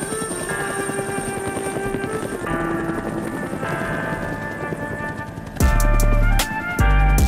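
A helicopter flies close by, its rotor thumping steadily under a broad engine whine. The sound swells louder near the end with a couple of abrupt jumps in level.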